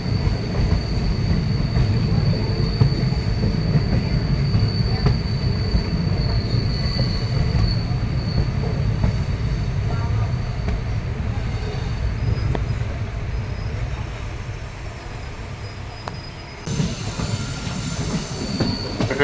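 The Madurai-Guruvayoor Express runs on rails near Ottakkal station, heard from on board as a steady loud rumble with a squeal of wheels on the track and a faint clickety-clack.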